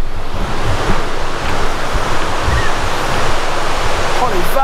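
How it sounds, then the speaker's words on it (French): Large ocean waves break on a rocky shore in Mexico, a loud, steady roar of surf and churning water close by, with wind buffeting the microphone throughout and no clear talking. "Oh, les vagues, ça donne envie de faire du surf, comme elles sont assez grosses"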